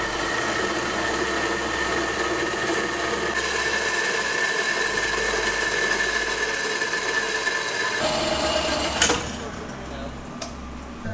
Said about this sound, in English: Saw that bad boy off, and it'll be a perfectly symmetrical X-pipe.